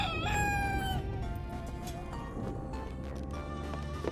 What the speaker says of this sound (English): I have a chicken with me.